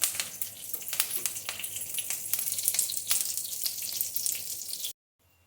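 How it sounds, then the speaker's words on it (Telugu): Curry leaves and onion pieces frying in hot oil, a steady close sizzle with sharp crackles and pops throughout, cutting off abruptly near the end, no talk. "ఒక ఆనియన్ పీసెస్ కొద్దిగా ఫ్రై అవనివ్వాలి."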